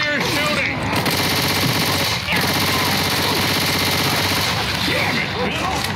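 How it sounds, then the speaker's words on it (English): Sustained gunfire from guns in the zombie shooter Left 4 Dead 2, a dense, loud rattle of rapid shots running the whole time with game effects layered in. "Watch where you're shooting!"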